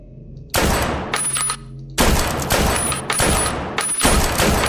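Loud bursts of rapid automatic gunfire in a horror video game, several sustained volleys separated by brief pauses, close and dense with rattling shots.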